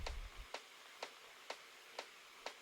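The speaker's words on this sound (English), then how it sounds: "if you just make like a loop like this, like a kicked loop, and underneath you put like vinyl distortion" A looped kick drum thumps at a steady, even pulse about twice per second, each hit short and clicky, with a faint crackling vinyl-style distortion hiss running continuously underneath.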